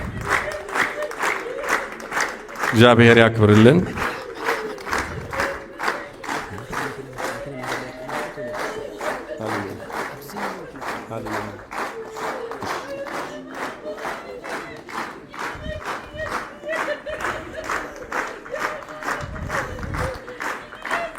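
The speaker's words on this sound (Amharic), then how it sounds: "ጭብጨባችሁን ከፍ አድርጋችሁ" Mourners at an Ethiopian artist's funeral clap in long, loud, rhythmic unison as a crowd, with a brief swell of voices early on and a speaking voice heard once.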